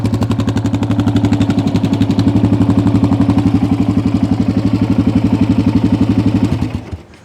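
A 1984 Yamaha XT600 single-overhead-cam, four-valve single-cylinder motorcycle with dual exhaust ports idles close up, a steady, even thumping pulse that runs for about six and a half seconds before the engine cuts off.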